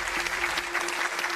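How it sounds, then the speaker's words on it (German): Studio audience applause on a Swiss Masked Singer TV show, a steady dense wash of clapping across the whole moment with a faint sustained tone running underneath. "Ja, ein Applaus."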